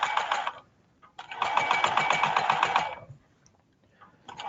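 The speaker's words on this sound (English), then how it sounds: "So I sewed it a 1/2 inch and now I'm sewing kind of between a 1/2 inch and the edge." A sewing machine stitches fabric in fast, buzzing bursts, one short run, a longer steady run, then a pause before it starts again, close and clear with no talking.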